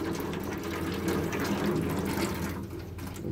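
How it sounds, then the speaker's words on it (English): Maple pea seeds are rinsed by hand in water, giving a steady close sloshing and swishing with continuous running-water texture and no talk. "So rinse them like how you wash the rice."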